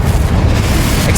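Blasting Confringo spell exploding in Hogwarts Legacy, a single loud, dense boom with a rumbling low end that fills the whole moment, no talking over it.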